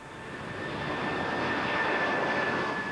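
A jumbo jet taking off gives a broad, steady roar with a thin whine on top, growing louder over the first second and then holding strong throughout.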